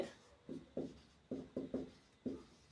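Marker or chalk strokes on a board, seven short scratchy rubbing bursts in an uneven rhythm, close and fairly quiet with nothing else over them.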